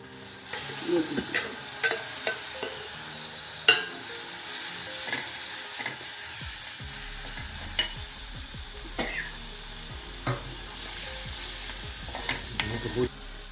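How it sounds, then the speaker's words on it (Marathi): Vegetables are tossed and stir-fried in a pan over roasted peanuts, poppy seeds and spices for a garlic methi dish, with steady close sizzling, scraping stirs and occasional clinks throughout, no talking. "शेंगदाणे वगैरे असा रोस्ट केलेलंच आहे आपण हे आता याच्यामध्ये ही भाजी घालून घेऊया"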